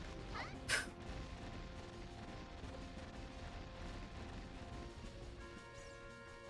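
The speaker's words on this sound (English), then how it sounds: "By the way, these chickens are indeed exploding." Chickens in a Zelda Ocarina of Time Randomizer game give off an explosion sound effect: one sharp, loud burst early on over steady game music, with no talk.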